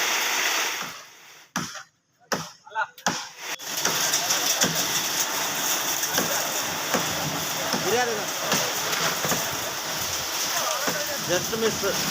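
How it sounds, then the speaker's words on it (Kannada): Heavy monsoon rain pours down in Chikkamagaluru, a dense, steady hiss that briefly drops out near the start and then holds loud and constant, with faint traffic rumble from stalled vehicles beneath it. "ಇದು ಚಿಕ್ಕಮಗಳೂರಿನಲ್ಲಿ ಧಾರಾಕಾರವಾಗಿ ಮಳೆಯಾಗ್ತಾ ಇದೆ"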